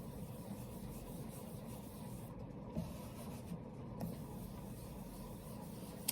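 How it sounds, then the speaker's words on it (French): A small brush dabs and scrubs ink onto a paper card as a background, a faint, steady soft rubbing heard close in a quiet room. "on va se servir de ma petite brosse comme ça et on va faire un fond tout simplement."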